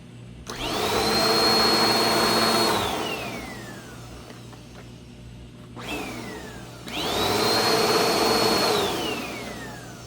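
A Bissell upright vacuum cleaner with a cord rewind runs loud and steady for a few seconds, winds down with a falling whine, then a brief restart blip, then spins back up to full roar.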